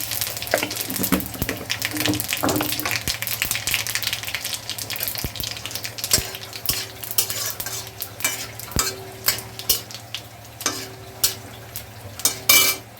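Bay leaves and chillies tempering in hot oil for a moong dal with papaya and coriander, a steady sizzle with stirring clinks and scraping, later broken by short water-like splashes; no talking.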